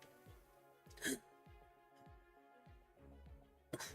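A person playing a game on a computer gives two short, abrupt hiccups a few seconds apart, close to the microphone over quiet, looping background game music.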